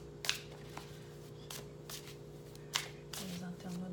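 Playing cards shuffled by hand to start a card game, a few sharp riffling bursts spaced apart with soft handling sounds between them and a voice heard faintly in the background.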